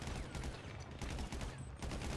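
Dense bursts of rapid gunfire in the video game GTA V crackle continuously, loud and close, with overlapping shots forming a steady barrage.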